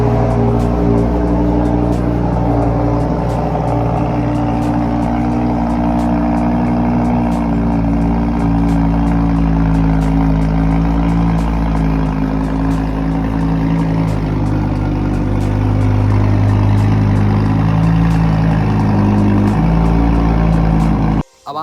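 A Lamborghini Huracan Spyder's V10 engine idles steadily close by, a deep continuous burbling rumble that swells slightly toward the end before cutting off abruptly.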